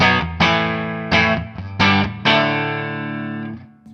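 Electric guitar through a Line 6 HX One / Helix reverb with slapback, four picked chords ringing out one after another with a quick short echo and a smooth tail, the last chord sustaining and fading alone.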